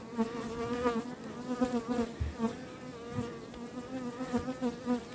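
Honeybees buzz steadily around an open hive during a queen replacement, a dense, close, continuous drone with a wavering pitch and no voices over it.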